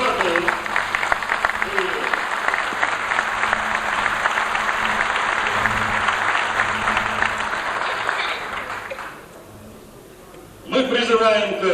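Sustained applause from an audience at the Second Congress of the Ingush People fills the hall, loud and steady with dense clapping. It stops abruptly near the end, leaving a brief quiet gap before a voice begins speaking.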